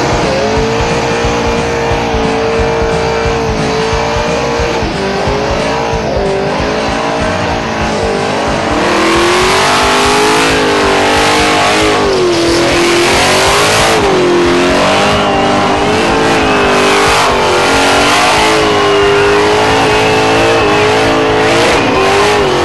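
A street machine revs hard during a burnout competition at Summernats, the engine note rising and falling in loud sustained bursts with tire squeal and a roaring crowd-scale din building halfway through.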